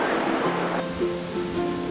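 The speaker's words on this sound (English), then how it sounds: "Listen to those waves." Ocean waves washing onto a beach, a loud continuous rushing surf with a steady roar throughout, close and without any talking.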